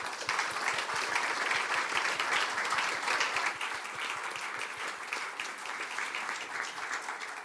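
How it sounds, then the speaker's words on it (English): At a European tourism panel forum, the audience claps for the panelists in a sustained, even round of applause, many hands together at a steady level, with no voices on top. "Let's give one more big round of applause to our panelists, please."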